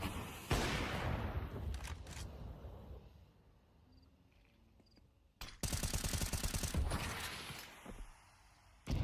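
Automatic gunfire in a Counter-Strike match on the Inferno map, The MongolZ vs Team Liquid at the CS Asia Championship: loud rapid bursts at the start, a quieter stretch, then a long dense volley of close shots.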